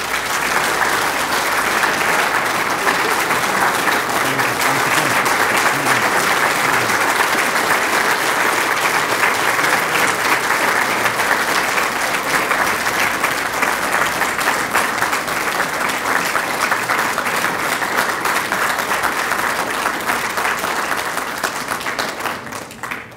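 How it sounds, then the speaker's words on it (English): Loud, sustained audience applause honoring a guest at a tribute event, dense clapping from a large crowd that holds steady for over twenty seconds before tapering off at the end. "intergalactic applause to our guest of honor,"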